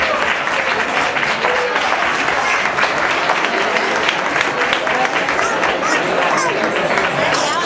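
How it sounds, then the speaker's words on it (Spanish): Audience at a Christmas pastorales event clapping steadily and densely, with crowd chatter mixed in throughout. "También les pido que lo aplaudan."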